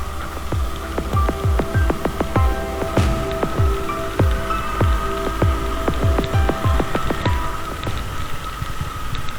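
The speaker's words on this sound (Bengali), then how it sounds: "প্রচণ্ড বৃষ্টি শুরু হয়েছে" Heavy rain falls during a motorbike ride in East Sikkim near Changu Lake on the way to Nathula, with rapid, close raindrop impacts pattering constantly over a continuous wash of rain noise.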